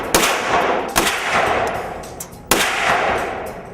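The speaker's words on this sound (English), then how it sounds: "we test obviously each pistol with an entire pistol magazine" Beretta pistols being test-fired at the factory, heard as three loud, sharp gunshots spaced unevenly across a few seconds, each followed by a reverberant, echoing decay as if indoors, with no voices.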